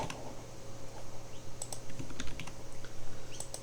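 Rapid typing on a computer keyboard while entering API keys, a close, steady patter of keystrokes over a low background hum with no talking.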